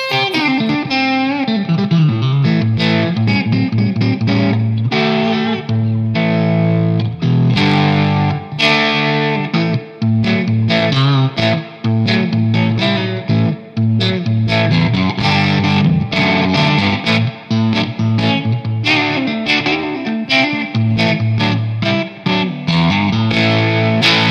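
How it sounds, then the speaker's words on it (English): Electric guitar with single-coil pickups played through a Strymon Big Sky reverb pedal on a spring setting, with driven, distorted chords and notes that ring with splashy reverb throughout, loud and continuous with no talking. "nice spring reverb"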